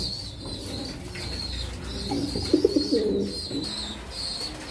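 Caged pigeons at a pigeon sale coo in soft, low, repeated bursts close by, with a rustle of wing flaps and a faint high chirping in the background.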